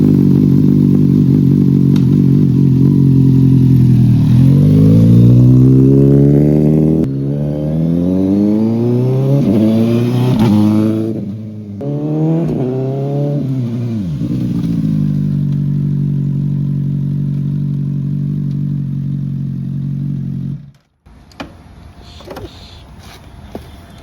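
A CFMOTO 750SRS motorcycle engine runs close by, its steady idle rising through several sweeping revs that climb and fall before settling back to idle and cutting off near the end.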